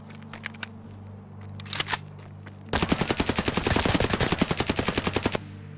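AKS rifle in the Escape from Tarkov video game, a few scattered shots followed by a long rapid automatic burst of loud, evenly spaced cracks that cuts off abruptly as the weapon jams.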